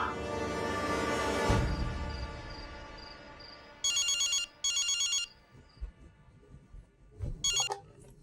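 A telephone rings with an incoming call in a domestic drama scene, its electronic bell sounding in repeated bursts over a quiet background.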